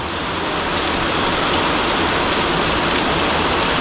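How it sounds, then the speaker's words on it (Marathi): Steady, loud rain pouring down onto a flat slab that is filling with water, a dense continuous hiss with no pauses or voices. "पाऊस पडतोय स्लॅब भरला जातोय"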